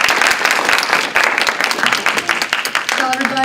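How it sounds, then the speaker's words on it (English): A Toastmasters meeting audience gives Deb a round of applause, dense clapping filling the room close by, thinning slightly near the end as a voice begins to cut in. "Give her a round of applause,"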